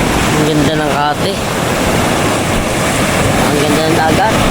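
Sea waves at a beach surge as a loud, constant wash of surf. Voices talk over the roar.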